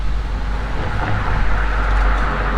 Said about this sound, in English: Those cars going past